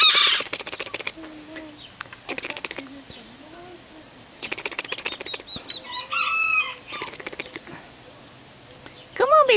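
Young ducks and turkeys call and chirp in short high bursts, mixed with wing flapping and rustling nearby, while a person talks to them in between.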